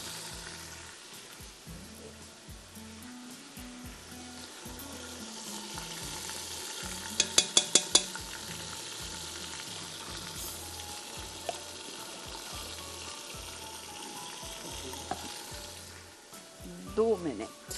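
About 750 grams of meat sizzles in a pan with a tablespoon of ginger garlic paste, a steady frying hiss with occasional stirring and a few metallic clinks of a spoon against the pan, and a voice speaking at points.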